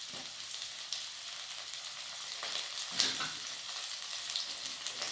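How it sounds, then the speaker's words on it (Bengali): Green chillies frying with already fried onions in a pan give a steady, gentle sizzle throughout, with faint stirring scrapes and a small sharper crackle partway through. "পেঁয়াজগুলো ভাজা হয়ে গেছে আমার। কয়েকটি কাঁচা লঙ্কা দিয়ে দিচ্ছি।"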